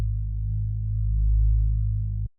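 A sustained synth bass note hums deep and steady at the root of a chord for about two seconds, then cuts off abruptly, heard alone and clean.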